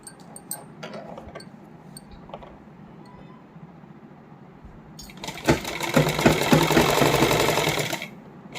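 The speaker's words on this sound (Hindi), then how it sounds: "इस तरह से यहाँ पे आके बिल्कुल आराम आराम से सिलाई करेंगे" A sewing machine stitching the inner lining onto a suit with heavy hand embroidery, first with faint intermittent ticks and clicks, then a loud, fast, rattling run of stitching for about three seconds before stopping.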